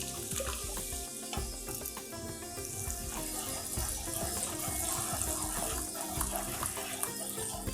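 Four tomatoes' worth of puree simmering in a pan for a kitchen king masala sabji, with a steady, dense sizzle and bubbling crackle running loud and continuous close by, no talking over it.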